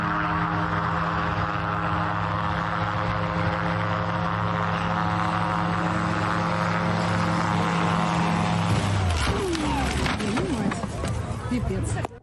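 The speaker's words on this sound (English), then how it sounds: "I promised I would show you what happened when a plane tried to take off from a short runway." A propeller plane drones steadily at full power on a short runway, then its engine note abruptly breaks off into a loud, harsh, noisy rush of impact and scraping near the end.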